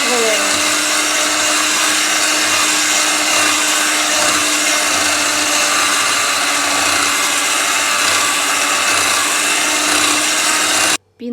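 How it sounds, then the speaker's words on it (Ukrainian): An electric mixer whisks sugar into pumpkin pancake batter at low speed, a loud steady motor whir running close and continuously before cutting off abruptly near the end. "Добавляю цукор і збиваємо на невеликій швидкості приблизно"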